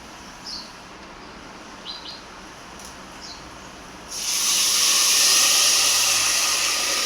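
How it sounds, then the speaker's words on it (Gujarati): Water poured from a bowl onto roasted broken wheat in a pot sets off a loud, steady hiss that bursts in partway through and keeps on, following a quiet stretch with a few faint chirps. "જે વાટકાથી આપણે લીધા હતા એ જ વાટકાથી પાણી આપણે નાખશું"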